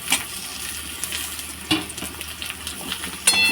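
Tomatoes and browned onion frying in a pan while being stirred, a continuous close sizzle with occasional spoon scrapes and clinks against the pan.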